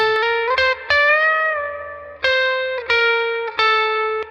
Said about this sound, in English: here's what it sounds like with just the chorus